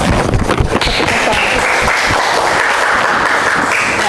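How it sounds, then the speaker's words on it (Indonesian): Classroom applause from students after a group presentation, steady full clapping that starts with a few louder claps and then holds evenly for about four seconds, with no speech. "Give applause."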